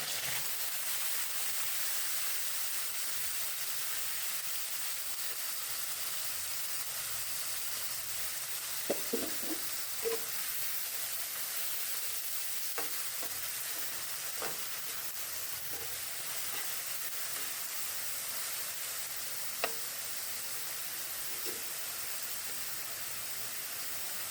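Red spinach stir-fries with fried onion in a pan, making a soft, steady hiss of steam and sizzle with a handful of faint scattered clicks and taps from stirring, fairly quiet and without voices.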